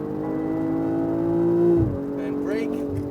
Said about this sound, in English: start squeezing on the power